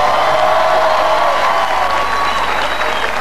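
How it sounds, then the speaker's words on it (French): An audience applauds Enrico Macias at a show, a dense, steady wash of clapping with a few scattered cheers, loud and close, sustained throughout. "On applaudir encore Enrico Macias."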